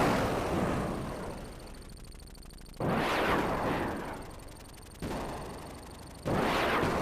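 Repeated explosions and rolling blasts from the Sega Genesis helicopter game Desert Strike, three loud bursts each decaying into a rumbling tail, with no talk.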